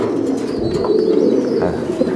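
Racing pigeons coo steadily and close together in a large loft on a farm keeping hundreds of pairs, giving a continuous layered murmur of soft low calls with no talk.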